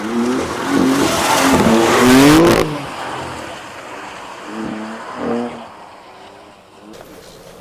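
A car engine revs hard and climbs in pitch as the vehicle sets off, loud and close, then drops to a lower idle-like rumble with a second short rev burst.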